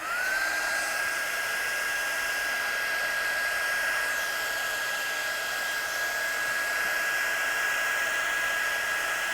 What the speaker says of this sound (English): So try and keep the gun moving around so you don't remelt your embossing powder.